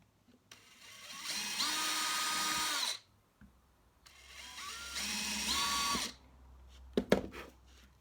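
Two bursts of a small electric drill with a 2mm bit boring pilot holes into a kayak hull, each whirring for about two and a half seconds, then a few clicks and knocks of handling, close and clear.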